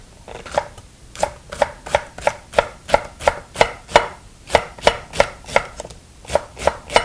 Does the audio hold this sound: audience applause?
no